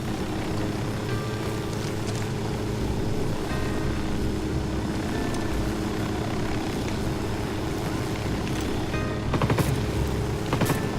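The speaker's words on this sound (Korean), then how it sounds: "헬기 헬기 헬기 헬기" A helicopter in the Ghost Recon Wildlands video game gives a steady, close rotor and engine drone for the whole stretch, with no talk over it.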